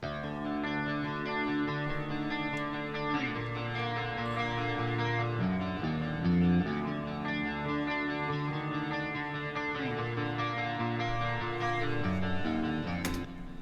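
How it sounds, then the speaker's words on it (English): Clean electric guitars, panned hard left and right, strum and pick sustained chords with a shimmering, wide spread, continuous and unaccompanied by voices. "Clean guitars, I usually leave them pretty standard."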